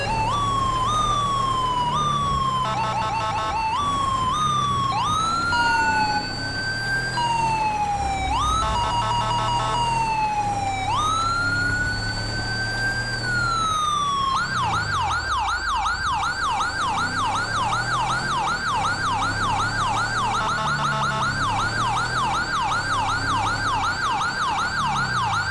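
A CHP police siren in a snowy GTA roleplay game wails loud and continuous, cycling from slow rising-falling sweeps into a rapid yelp pattern, with no talk over it.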